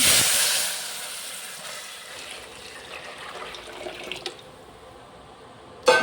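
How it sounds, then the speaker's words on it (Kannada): Tamarind water is poured into hot tomato masala for rasam, giving a bright hissing sizzle that surges at first and then settles into a softer bubbling simmer, with a couple of clinks and a sharp clatter at the end. "ಈಗ ಮಿಕ್ಸ್ ಮಾಡಿಟ್ಟಿರುವ ಈ ಟೊಮೆಟೊ ಮಸಾಲೆ ಹುಣಸೆ ನೀರು ಹಾಕ್ತಾಯಿದ್ದೀನಿ"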